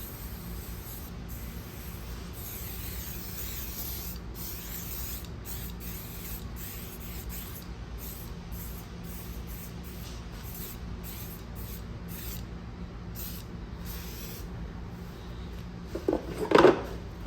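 Cleaner hisses from a spray bottle onto a wrecked 2022 Polaris Sportsman 450 HO ATV in a run of short, repeated bursts, quiet and close, followed by a brief clatter at the end.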